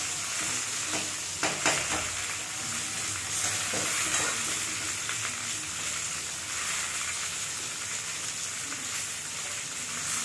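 Whole urad dal and chana dal, a tablespoon each, sizzling in hot oil for a South Indian dish; a quiet continuous fry with several scraping stirs of a spoon early on, close up, no voices.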